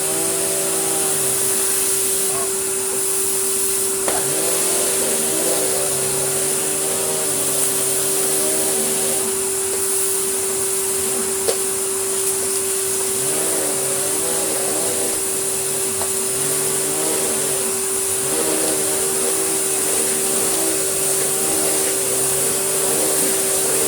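A vacuum cleaner runs continuously for the whole stretch, a steady loud motor whine with shifting rumbles and occasional clicks as it picks up debris from the floor, close and without speech.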